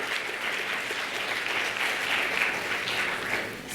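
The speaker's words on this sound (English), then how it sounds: "Let's give a quick round of applause." A panel audience at a women-in-optics diversity event claps for a few seconds, a steady, even wash of many hands at moderate volume that tapers slightly at the end.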